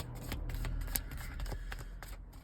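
Tarot cards being shuffled by hand, a soft steady riffle of papery flicks and slides, close but quiet, with faint crisp snaps scattered through the run and no talk over it.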